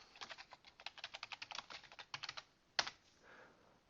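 Rapid typing on a computer keyboard, a quick run of crisp close keystrokes with an uneven rhythm, followed by a brief pause and one sharp louder key press before quieter tapping.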